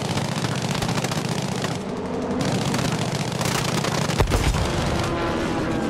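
A BF 109 G6 fighter in Battlefield V fires bursts of rapid machine-gun fire while shooting down a plane, loud and continuous over a steady engine drone, with a brief sharp impact near the end.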